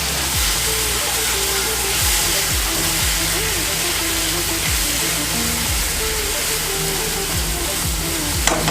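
Red chili powder sizzling in a hot pan with frying vegetables for a tawa burger, a steady close broadband crackle and hiss lasting throughout with soft stirring knocks.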